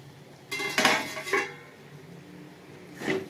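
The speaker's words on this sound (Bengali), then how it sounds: "এবার আমি ঢাকাটা খুলবো" A lid is lifted off a cooking pot of spiced masala for a fish curry with cauliflower and potato: a sharp metallic clatter and clink, a second rattle shortly after, then a final clink, close and fairly loud.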